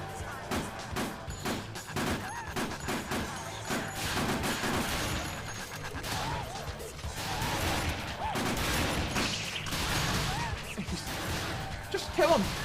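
Gunfire and chaotic combat in the zombie video game Dead Rising, a dense stream of shots, impacts and crashes running continuously, with excited voices talking over the action.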